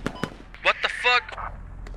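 Video game gunfire: a few sharp shots crack amid a burst of in-game sound effects, with players talking over the action.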